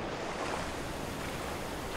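A waterfall in the video game Far Cry Primal rushes as a loud, continuous broadband roar that holds steady throughout.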